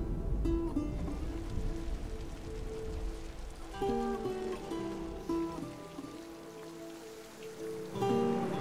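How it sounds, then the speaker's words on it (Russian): Rain falling in The Last of Us, a soft steady patter of drops on surfaces with faint game music tones ringing underneath. "Дождь начинается."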